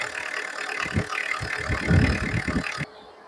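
A diesel car engine, a Hyundai Santro or Tata Indica in good condition, idles nearby with a rough, rattling, pulsing rumble, then cuts off abruptly near the end.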